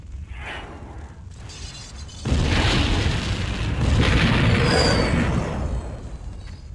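A massive explosion destroys a temple in a Command & Conquer game cinematic: a deep booming blast with shattering debris that swells after a quieter rumbling opening and rolls on loudly before easing slightly near the end.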